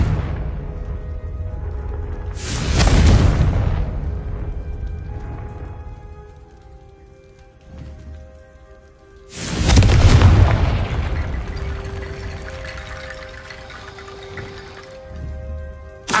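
Confringo fire-blast spell in the video game Hogwarts Legacy, cast twice: two loud, booming explosive bursts with a watery, crackling tail, each fading into a low rumble over steady background music.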